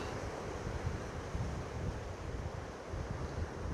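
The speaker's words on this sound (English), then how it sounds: "let's get some views of some of the waves here for you. They're coming in." Ocean waves wash in steadily at Burleigh Heads beach on the Gold Coast, a continuous broadband rush of surf mixed with wind buffeting the microphone, with no voices.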